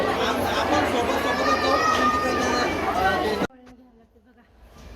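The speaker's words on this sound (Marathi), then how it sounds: "एवढी जत्रेसाठी गर्दी बघा आज" Pilgrims thronging the Shegaon temple fair produce a thick, steady babble of many voices that cuts off abruptly partway through, leaving a much quieter background with faint scattered sounds.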